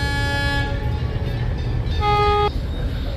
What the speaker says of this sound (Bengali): তো আশপাশ থেকে অনেকগুলো লঞ্চের হুইসেল শোনা যাচ্ছে